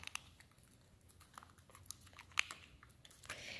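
A Motorola V3C phone having its plastic battery cover clicked back on, soft fiddly plastic taps and scrapes ending in a sharp snap, close and quiet with no voices.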